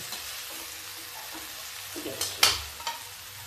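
Wheat and black chickpea ghughuri roasts in a pan as a soft stirring sizzle, with a few sharper scrapes and clatters near the end, close by, with no talk.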